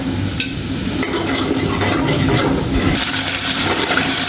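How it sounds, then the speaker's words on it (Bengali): Spice paste with turmeric, salt and a little water being stirred and fried in a pan for a koi fish curry, a steady close sizzle with scraping stirs throughout. "সামান্য জল দিয়ে ভালোভাবে আমি এখন কষিয়ে নেব"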